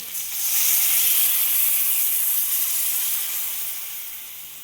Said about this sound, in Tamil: இப்போ தண்ணி அதுக்கு தேவையான அளவு ஊற்றிடலாம்.